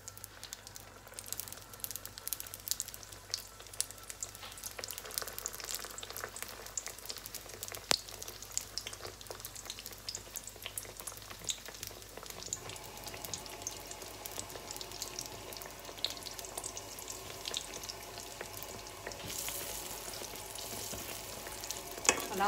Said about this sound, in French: Alors, on va commencer la cuisson des beignets.